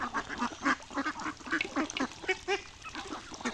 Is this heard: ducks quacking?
yes